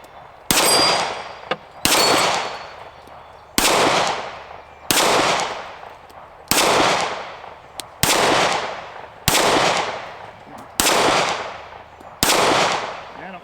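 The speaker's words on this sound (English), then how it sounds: "just going to shoot over here again. I'm going to try them little plates again." Keltec P15 pistol shots ringing off steel plates at an outdoor range: about nine sharp shots, each followed by a bright metallic clang that decays, spaced roughly one to two seconds apart, loud and close.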